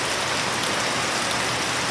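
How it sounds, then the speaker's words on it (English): Heavy tropical rain pours down in a dense, steady hiss of drops striking surfaces, loud and unbroken with no voices. "the tropical rain."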